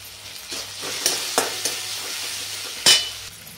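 Turmeric dropped into hot oil in a pan for tarri poha, crackling steadily while a spoon stirs and scrapes, with a few sharper scraping clinks near the end and no talk.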